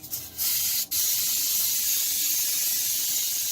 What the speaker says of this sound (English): with a little cooking spray to begin with